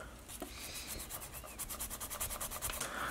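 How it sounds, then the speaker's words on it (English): A small carved fishing lure is sanded by hand with quick, close back-and-forth rubbing strokes, a soft, steady, raspy scratching heard alone without talk. "You're never truly done sanding."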